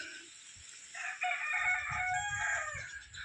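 A rooster crows loudly and close by in one drawn-out call, with faint clucking from chickens underneath.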